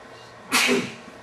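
A single sharp sneeze bursts out close by, brief and loud against a quiet room.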